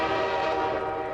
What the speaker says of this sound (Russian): Сходу на нас поехал поезд, но вернее только его звук.